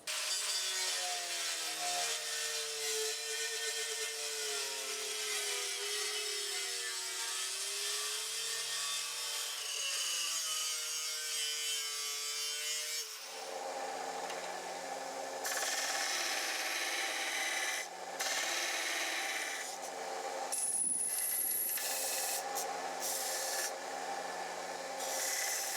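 A metal D-guard for a short sword cutlass is cut out by hand, giving a long run of steady, rhythmic rasping strokes, then a harsher, noisier stretch of scraping and cutting with brief sharp squeals, close and without talk.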